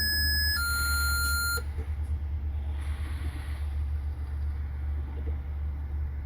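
Truck dashboard buzzers on a 38000 air brake test rig sound as a steady high electronic tone stepping in pitch for about a second and a half right after the power comes on, over a constant low engine hum, then stop.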